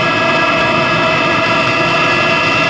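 Chinese diesel heater burning a thick oil blend, a loud steady roar with a constant whine and fan hum, unbroken and close.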